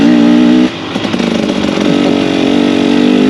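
A 2024 KTM 300 TBI hard-enduro dirt bike engine running close and loud after warming up, a rough two-stroke buzz that dips briefly and then holds steady while out riding in the first snow.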